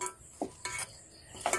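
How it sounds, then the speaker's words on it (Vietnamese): Dried snakehead fish and green mango salad tossed with a sweet-and-sour fish sauce dressing in a home kitchen, with a few short, close utensil clinks and scrapes against a bowl spaced out between quiet moments. "Giờ mình có chén nước mắm chua ngọt nè, giờ mình cho vô miếng, cho vô 2 muỗng để rồi mình trộn gỏi"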